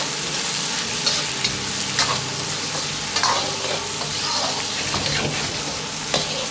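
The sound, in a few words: stir-frying spices with braised pork in a wok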